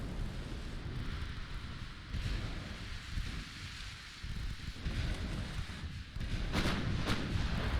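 Naval cruiser guns firing in a warship battle game, a continuous rumbling barrage of booming shots with a few sharper cracks near the end, loud and dense throughout.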